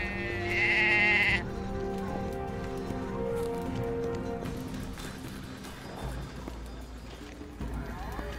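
Sheep bleating in the video game Drova, a loud nearby bleat at the start followed by layered game ambience with horse hoof clip-clops and other animal sounds in the background.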